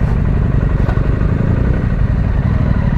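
BMW GS motorcycles ride past on a small private road, their engines making a loud, steady, close rumble throughout.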